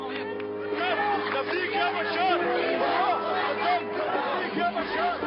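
A crowd fills a pro-regime demonstration in Paris, with many voices chanting and calling together in a dense, loud, continuous babble.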